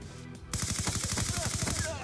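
Rapid automatic gunfire in a hide and seek video game, a dense burst of regular shots starting abruptly after a brief quiet moment and continuing loud to the end.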